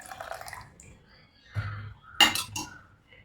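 Melted jaggery syrup for rava unniyappam is poured into semolina in a kitchen, with a short liquid pour and dripping amid a few sharp clinks of a spoon against a vessel, quiet in between.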